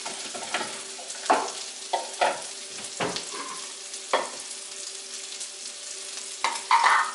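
Vegetables sweat and sizzle in a pan while being stirred, with a steady soft frying hiss broken by repeated louder scraping and stirring strokes, close and alone.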